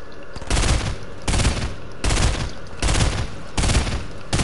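Gunfire in the Fortnite video game, five loud rapid bursts of automatic fire evenly spaced about every three quarters of a second, close and dominant, with no talking.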